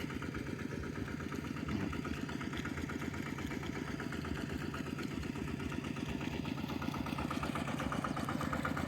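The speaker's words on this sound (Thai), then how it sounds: "รถไถเดินตาม" A walking tractor, the hand-guided kind used in Thai rice paddies, idles steadily nearby, its single-cylinder engine chugging in a fast, even rhythm that continues unbroken and moderately loud.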